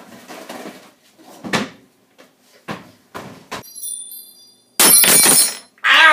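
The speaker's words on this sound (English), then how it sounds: "I opened up the wrong drawer." A household drawer is yanked open and shoved shut several times, giving sharp wooden knocks and rattling clinks of items inside, loud and close, with a burst of clatter near the end.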